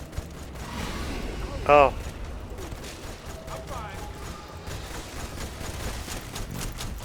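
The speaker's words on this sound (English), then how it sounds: "Taking fire over here." Video game firefight with rapid gunfire crackling continuously in the background, a brief louder burst near the start, under occasional talk.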